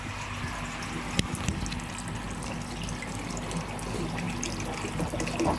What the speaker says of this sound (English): we'll have to rinse the spider webs out